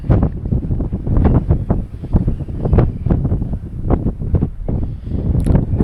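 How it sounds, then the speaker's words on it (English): Strong gusty wind buffets the microphone on an open homestead, arriving in loud, irregular rumbling bursts with no talking. "look at that wind."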